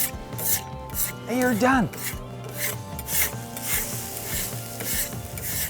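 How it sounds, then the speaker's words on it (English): A metal tool scrapes a grill grate over a live fire, giving repeated rasping strokes in an uneven rhythm along with faint sizzling. A person speaks briefly during the scraping. "You just scrape it off, straight into the fire"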